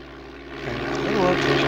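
Propeller airplane in Microsoft Flight Simulator 4 throttling up to full power, the engine drone swelling and rising in pitch over a brief moment.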